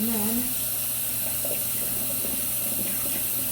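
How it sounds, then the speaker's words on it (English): Tap water runs steadily into a sink as a spoon is rinsed while making a poke bowl, a continuous close splashing wash with a brief voice at the start. "just rinse it off the spoon"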